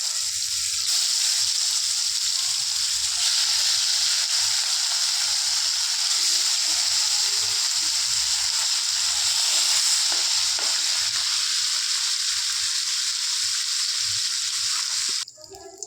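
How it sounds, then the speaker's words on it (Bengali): Pieces of hilsa fish frying lightly in hot oil give a loud, steady hiss that holds evenly for about fifteen seconds with little else heard, then cuts off at the end. "এবার আমি মাছগুলো হালকা অল্প সামান্য হালকা করে ভেজে নেব"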